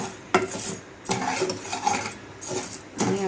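A spoon scrapes and stirs dry barnyard millet in a pan on a gas stove, giving rhythmic gritty rasps with brief metallic knocks against the pan, close and fairly quiet.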